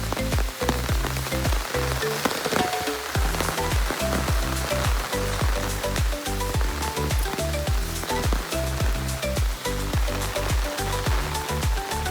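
Rain patters steadily on a hard surface, dense dripping and splashing throughout, with a faint musical tone running underneath.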